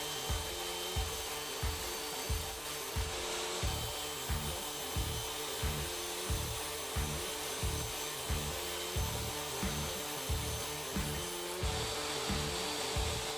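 A table saw cuts plastic roof sheets for a pallet garden shed, giving a regular, steady rasping rhythm of repeated strokes with a constant high whine underneath, fairly loud and close with no talking.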